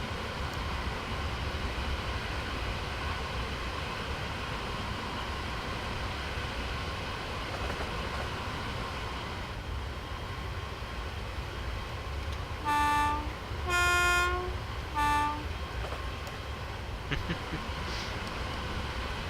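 A Class 313 electric train in Train Simulator 2018 drives under full power with a steady rumbling drone, and a few short, bright horn toots sound near the end.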